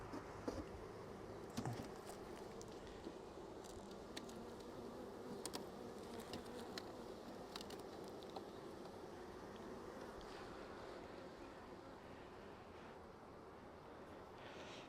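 A steady, dense hum of many honeybees buzzing close by in an open hive, with occasional individual bees droning past louder.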